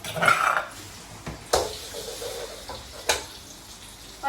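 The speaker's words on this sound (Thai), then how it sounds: "แล้วก็เจียวกระเทียมเนาะเทียมที่เขาตำไว้เนาะให้มันหอม" Pounded garlic fries in a pan for Thai nam prik kak mu, a chili dip with pork cracklings, giving a soft, steady sizzle under several sharp metallic clanks of a utensil against the pan. No one speaks.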